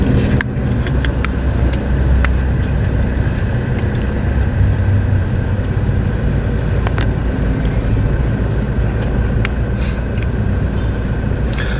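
Steady, loud city traffic on Lacson Street in Bacolod City near the SM City mall, with cars turning through a busy intersection, a dense continuous engine rumble and occasional faint clinks, no voices.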